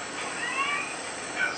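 A person imitates a cat's meow with thin, high, wavering tones, faint and drawn out over a hissy background.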